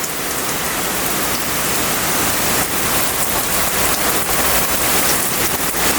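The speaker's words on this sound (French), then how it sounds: "Il y a tellement de pluie là qui est en train de tomber." Heavy rain pouring down in a violent thunderstorm in Bordeaux, a loud, dense and continuous hiss of downpour filling the whole stretch with no speech.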